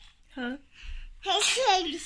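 A short vocal sound, then a child's sharp sneeze bursts out close by, with a brief spoken word nearby.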